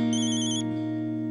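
A mobile phone ringtone plays a bright, steady electronic chime for about half a second over a sustained musical background, then cuts off while the backing tones continue, with no talking.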